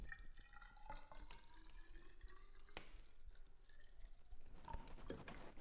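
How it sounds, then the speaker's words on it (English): Liquid poured out of a jug during a wet-plate silver bath replenishment, a continuous trickling and splashing stream with scattered drips, close and moderately quiet, no talking. "Pour it back out."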